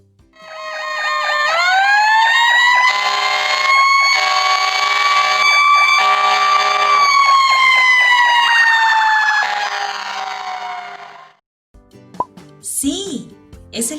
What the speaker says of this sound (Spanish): Sí, es el camión de bomberos.